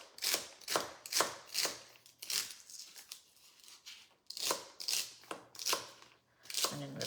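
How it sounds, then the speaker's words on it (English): Celery being chopped into bite-sized pieces for a creamy Indian soup, a run of crisp, evenly spaced cuts that pause briefly in the middle and then resume, close and moderately loud. "just cutting them down the center there and just chopping these up as well"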